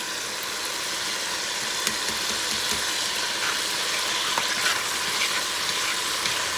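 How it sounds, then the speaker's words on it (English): Turmeric and cumin fry in a pan for rice with pork sausage, giving a continuous, even, close sizzle with a few faint clicks of stirring. "I'm going to add turmeric and the cumin."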